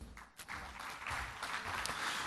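Audience in a formal lecture hall gives a round of applause for a desembargador being invited to the stage, a steady, moderately distant wash of clapping throughout.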